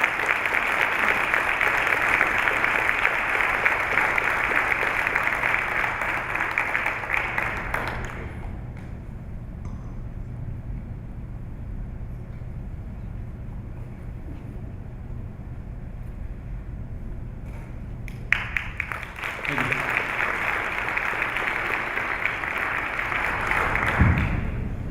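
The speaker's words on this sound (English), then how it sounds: "Let's give them a big round of applause." A school board meeting audience applauds students with a long, dense round of clapping that stops abruptly, leaving a quiet room with faint murmurs before the applause resumes near the end.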